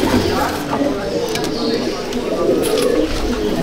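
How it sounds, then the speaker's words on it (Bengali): Malbai/Panjabi pigeons in a loft give soft, low cooing that runs steadily under a busy background, with faint chatter and a few brief clicks. "পায়রা প্রত্যেক কটা পায়রা A1 কোয়ালিটির পায়রা আছে"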